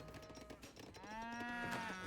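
Cows on a hacienda in the strategy game Age of Empires III give a single drawn-out moo, clear and alone over a quiet background.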